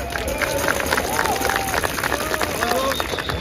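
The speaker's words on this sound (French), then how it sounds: "Je vous prie d'écouter et d'applaudir Marc Goyer" Crowd applauding and murmuring at an outdoor national march for peace and freedom as a speaker is introduced, steady mass clapping with scattered voices and whistles throughout.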